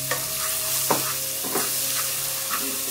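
Chopped ginger sautés with salt in a pot, sizzling steadily and close up while a utensil scrapes and stirs it every second or so.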